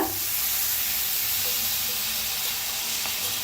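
Spices, turmeric and red chili powder among them, roast in a pan with a continuous close hiss and soft sizzle, steady and unbroken throughout.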